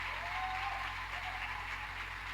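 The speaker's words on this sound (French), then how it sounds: "Acclamez pour le Seigneur Jésus." A congregation applauds steadily at a church service, a dense, continuous wash of clapping that stays at an even level throughout with no voices over it.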